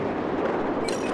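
Gunfire in the Battlefield 4 video game, a dense, continuous burst of shots filling the whole moment at steady loudness, with no talk over it.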